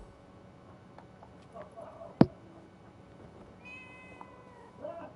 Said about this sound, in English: Hey, that cat. Did it tail us here?